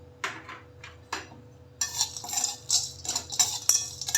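Roasted peanuts, dal and coconut being stirred in a pan, a spoon scraping and clattering against the metal in irregular bursts that grow busier and louder, with no talking.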